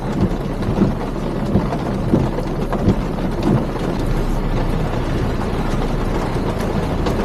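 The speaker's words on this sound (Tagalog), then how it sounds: "napakalakas na ng ulan" Heavy rain falls outdoors under a dark sky in Australia, a dense steady roar with low wind-like rumble and occasional soft thumps, continuous and fairly loud throughout.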